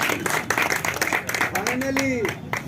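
An audience at a World Theatre Day event at a theatre claps for the newly married Akhilesh. Steady, fairly close applause runs throughout, with voices talking and calling out over it.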